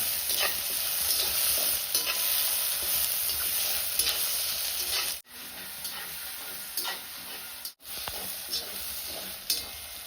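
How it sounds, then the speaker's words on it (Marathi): Tomatoes sauté in a spiced tempering for village-style dry chana masala cooked over a wood-fired clay stove, giving a steady close sizzle with scraping stirs and two brief pauses. "टोमॅटो टाकून घेऊ आणि टोमॅटो पण आपल्याला मऊ होईपर्यंत मस्त असा परतून घ्यायचा आहे"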